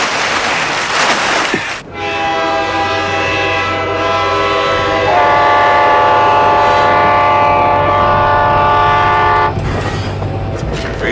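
A train sounds a long, loud, sustained horn blast over a rumbling railway background. The blast starts abruptly after a short burst of noise and holds for several seconds before cutting off.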